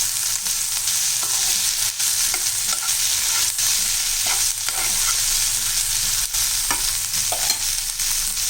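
Ingredients for a tomato and mint chutney sauté in a pan, giving a loud, continuous sizzle broken by repeated scraping strokes of a stirring spoon, with no voices.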